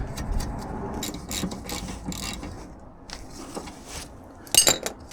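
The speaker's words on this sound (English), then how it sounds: "Let's tighten this nut back up again." A handbrake adjuster nut on a VW Beetle being tightened with a ratchet, with quick bursts of clicking pawl and metallic clinks close up, ending in a louder sharp rattle.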